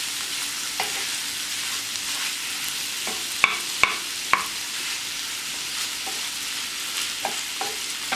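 Frozen ingredients for a Cobb salad sizzle and fry steadily in a pan, a dense continuous hiss with a few sharp utensil clicks and scrapes partway through, no voices.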